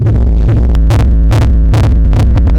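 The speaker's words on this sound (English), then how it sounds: "And see how we're getting some rumble." Heavy, distorted low rumble pulses under a steady techno kick, with gritty reverb tails swelling between beats; loud and dense, no voices.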